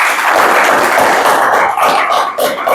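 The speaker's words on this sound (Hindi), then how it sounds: "एक बार अपने पेरेंट्स के लिए ताली बजा दो" A class of students claps for their parents in a chemistry lesson, a dense, loud, sustained burst of applause from many hands, steady from start to finish with no voices on top.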